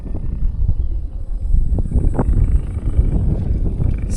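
Gusty dry wind in a rural Lao village buffets the microphone with a steady low rumble, rising and falling in strength throughout, with no voices present.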